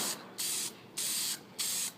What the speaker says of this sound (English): And give it a shake. Spray a little.